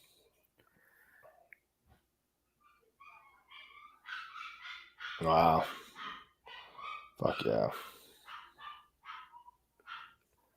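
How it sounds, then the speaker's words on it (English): Dogs bark in loud bursts at close range, mixed with excited human exclamations over the top. "Damn dogs."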